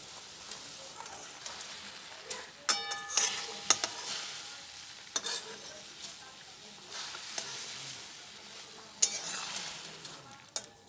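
Chitol fish dumplings cook in hot water for Bengali muitha, making a soft, bubbling simmer with occasional sharp utensil clinks against the pot.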